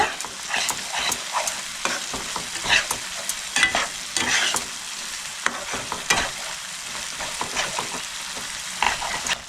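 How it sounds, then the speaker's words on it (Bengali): Ginger, garlic and chili paste sautéing in a pan for a fish curry, a bright continuous sizzle with frequent sharp scraping and stirring clatters, close up with no voices. "আদা রসুন আর লঙ্কা বাটা দিয়ে আমি 1 মিনিট মতো ভালো করে কষাই নেব।"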